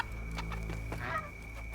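A game bird in the action game Horizon Forbidden West gives a few short honking squawks over a steady low ambient hum, close and fairly quiet.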